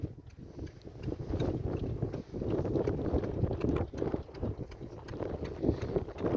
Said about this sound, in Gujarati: પવન વધારે છે એટલે દવા છાંટવાનું બંધ રાખવું છે